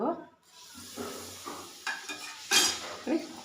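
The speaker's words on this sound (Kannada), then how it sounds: "ಕೈ ನಿಲ್ಲಿಸಲೇಬಾರದು, ತುಂಬ ನೀಟಾಗಿ ಮಿಕ್ಸ್ ಮಾಡ್ತಾ ಇರಬೇಕು ಅದನ್ನು." Mysore pak batter stirred in hot oil in a pan, giving soft scraping strokes and light sizzling at a close distance, with a few sharper clinks of the utensil against the pan.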